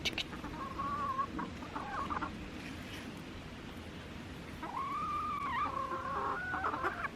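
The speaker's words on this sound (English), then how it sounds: "let's see if the chickens want to eat them" Chickens offered a protein-rich snack in a garden cluck in two bursts of short, rising calls, close and fairly loud over a steady outdoor background.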